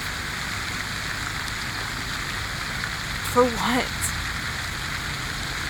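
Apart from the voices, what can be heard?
loud running water nearby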